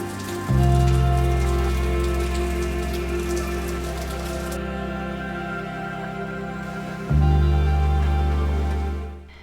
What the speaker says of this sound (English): May has been very rainy over here.